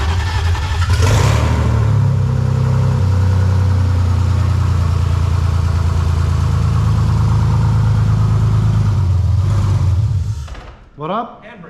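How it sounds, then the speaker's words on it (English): A six-cylinder drift car engine cranks, catches and runs at a loud, steady, close idle, then cuts off near the end as a voice talks briefly. "Just started the motor, sounds really good. Cranks over, nice."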